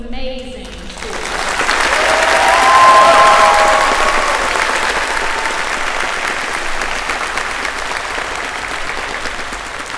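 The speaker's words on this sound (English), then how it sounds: "I want to hear one really loud, really rambunctious round of applause for all of these amazing students" Loud, sustained applause with some cheering fills an honors day ceremony hall for honored biology students, swelling around the third second and continuing steadily to the end.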